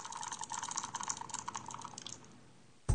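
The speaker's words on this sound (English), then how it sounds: "the authentic feel of dice banging around inside a cup" Virtual dice on a mobile phone app rattle and clatter in quick irregular clicks like dice shaken in a cup, close and fairly soft, fading out before a brief thump at the end.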